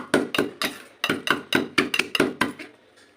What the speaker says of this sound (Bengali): এটা নোড়া দিয়ে ছোটো করে গুঁড়িয়ে যায়